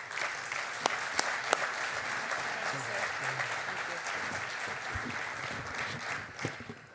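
Steady, moderately distant applause from an award ceremony audience honoring a corporate foundation award recipient, dense clapping sustained throughout with a few sharper individual claps and murmured voices underneath.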